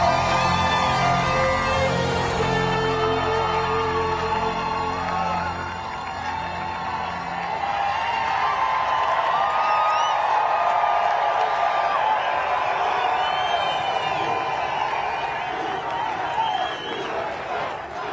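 Rally crowd at the Iowa State Fairgrounds, a large, distant roar of cheering and clapping that swells and carries on steadily as music fades out at the start.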